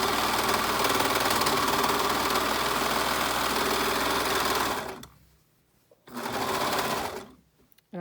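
A serger stitches a seam on a baby kimono, a fast, loud mechanical whirring run for about five seconds, a brief pause, then a shorter burst.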